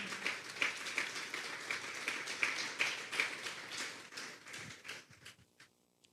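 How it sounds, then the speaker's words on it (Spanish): A church congregation claps during a sermon, a dense patter of many hands at moderate distance that thins out and fades near the end. "Denle esa ofrenda de palmas a Dios fuerte."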